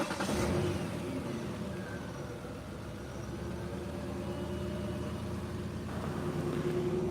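A 2007 Ford Explorer's 4.0L engine with a misfire runs at a steady idle, a low, uneven hum and drone that stays fairly quiet and constant, with a slight lift in pitch toward the end.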